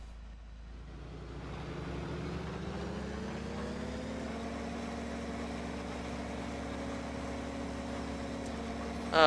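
A tractor engine pulling a seeder in the Farming Simulator 2013 video game, a steady droning hum that rises as it gets under way and holds even and continuous to the end.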